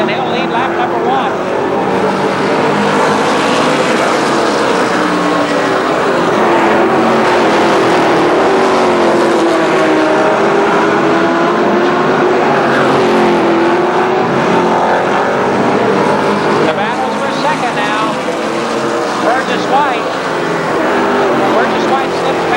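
Race cars lapping Columbus Motor Speedway at a Memorial Day event, engines droning and rising and falling in pitch as they circle, loud and continuous, with an announcer talking over the whole stretch.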